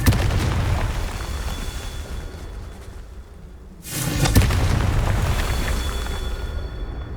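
A Confringo fire spell explodes in Hogwarts Legacy, a loud, broad roaring burst that carries on and swells again into a second heavy blast partway through, with no voices.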